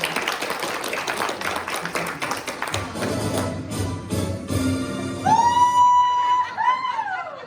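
Congregation at a Sunday church service clapping, a scattered patter of hands that thins out as it goes, then a bright sustained tone rises near the end.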